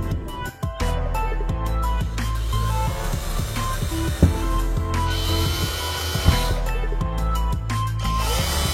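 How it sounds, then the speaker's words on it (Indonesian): A power drill with a small bit bores holes in a fan cover, whirring in short bursts with sharp clicks and stops between holes, close and fairly loud. "kita bor dengan mata bor ukuran kecil"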